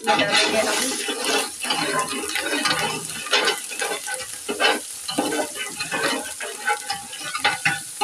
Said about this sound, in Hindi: 1 टेबल स्पून लहसुन अदरक चॉप किया हुआ, और इसको करेंगे हम फ्राई, गोल्डन थोड़ा सा करेंगे